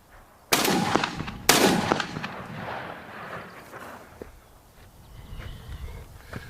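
Two loud, close shotgun blasts from a Beretta A400 Extreme Unico and a Remington Versa Max firing 3.5-inch Challenger Super Magnum shells, about a second apart, each trailing off into a long outdoor echo.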